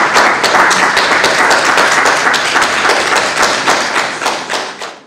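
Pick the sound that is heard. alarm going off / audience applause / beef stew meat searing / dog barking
audience applause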